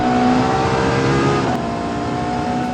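Ferrari 812 Superfast V12 pulling hard under acceleration, heard from inside as a loud, continuous rising engine howl with a brief dip at a gear change.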